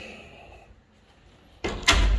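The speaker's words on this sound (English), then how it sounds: "She likes it that she can close the door" Pantry door swings shut with a sudden close thud followed by a louder latching knock, after a quiet stretch of faint room noise.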